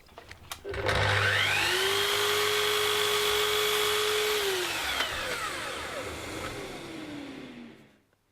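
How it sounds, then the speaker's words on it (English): A miter saw spins up and whines steadily as it cuts a test chamfer in wood clamped against a softwood stop block, then the motor winds down in a long falling tone, loud and close. "I've clamped a piece of softwood to the miter saw to use as a stop block to keep the chamfer consistent, and I'm cutting a quick test"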